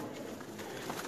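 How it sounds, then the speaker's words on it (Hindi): Black-faced Sialkoti pigeons coo softly in a loft, a steady murmuring layer of cooing from several birds throughout. "काले मुंह वाले कबूतर जो सियालकोटी है ना"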